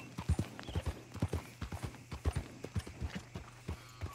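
Horse hooves clip-clop in a steady, fairly quick rhythm in Red Dead Redemption 2, clear and close with no talking over them.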